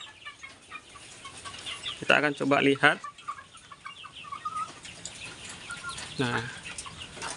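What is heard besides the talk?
Mardi free-range broiler chickens clucking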